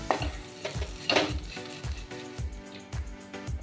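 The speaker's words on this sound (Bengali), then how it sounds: "এবার ভালো করে মিশিয়ে নেব।" Red amaranth leaves being fried in a pan, with crushed dried red chilli added, are stirred and mixed in regular scraping strokes about twice a second over a light sizzle.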